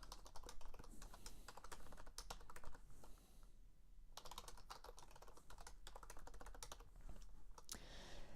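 Code typed on a computer keyboard into a new Processing sketch, steady rapid key clicks close to the mic with a brief pause midway, quiet and without any talking.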